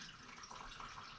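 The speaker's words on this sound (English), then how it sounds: "now you probably hear that draining more in the background" Radiator coolant drains from a 2013 Chevy Captiva during a radiator replacement, a faint, steady trickle of liquid running continuously in the background.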